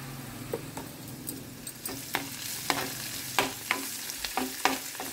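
Tomato curry with turmeric being stir-fried in a pan, a low sizzle beneath repeated sharp scraping and tapping strokes of a utensil that grow louder and more frequent toward the end.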